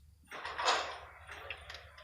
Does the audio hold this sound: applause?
no